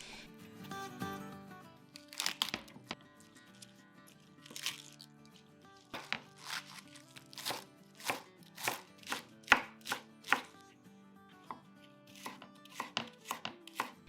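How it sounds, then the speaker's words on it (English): A knife shreds cabbage leaves into thin strips on a cutting board in quick, crisp strokes that come in rhythmic bursts, close up, with no talking. "Shred cabbage leaves into thin strips"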